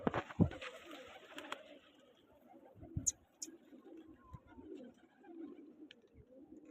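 Pigeons coo softly in a quiet outdoor setting, low repeated calls with a few sharper flutters and chirps scattered through, fairly faint and close.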